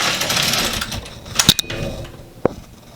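An LK150 knitting machine carriage slides across a row with a rushing mechanical swish, followed by a few sharp metallic clicks and a final clack as it stops.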